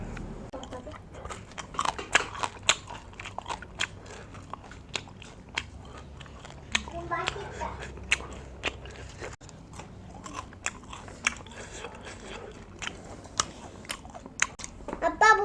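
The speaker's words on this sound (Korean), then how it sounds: "너 지금 대가리 먹고 있는 거야?" Crunchy biting and chewing on the head of a home-caught bass cooked spicy buldak-style, close and repeated in an uneven rhythm, with family members talking at times in the background.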